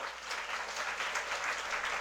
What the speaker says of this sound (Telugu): కనిపిస్తున్న వాళ్ళందరూ గట్టిగా చప్పట్లు కొట్టండి